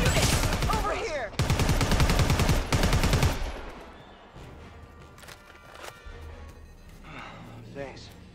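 Rapid automatic gunfire from the video game Predator: Hunting Grounds on PS5, loud dense bursts for about two seconds, then fading into quieter scattered shots and footsteps.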